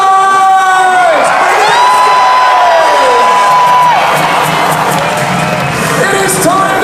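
A large live crowd at a Nitro Circus motocross stunt show in London cheers, whoops and shouts continuously and loudly, a dense roar of many voices with high children's yells rising above it.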